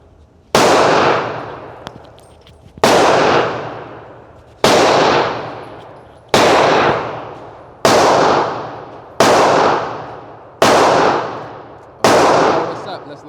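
Eight loud pistol shots from a Smith & Wesson M&P 10mm firing Blazer 180-grain ammunition at a range, spaced roughly two seconds apart, each a sharp crack with a ringing decay.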